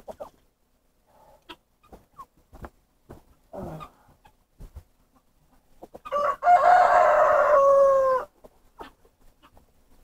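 Chickens on a cold-weather homestead, with a rooster's loud crow standing out for about two seconds amid scattered soft clucks and small scuffling sounds, nearby and without talk.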